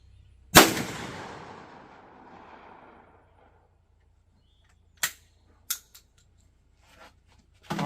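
A single sharp .410 shotgun slug shot at an outdoor range, loud and close, its report decaying over about two seconds, followed by a few fainter clicks and handling knocks.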